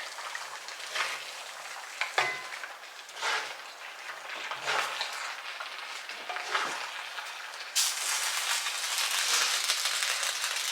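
A steady sizzle of stir-fry vegetables, including cauliflower, frying in a pan, with occasional stirring clatters, growing louder and hissier toward the end.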